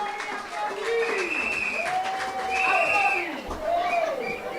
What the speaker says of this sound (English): Ladies and gentlemen, a round of applause for Francis.